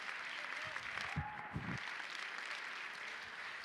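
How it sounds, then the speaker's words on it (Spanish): A church congregation claps during worship, a soft and fairly distant patter of applause with a few louder claps near the start and a faint voice beneath. "Aplaude, aplaude la grandeza del Señor."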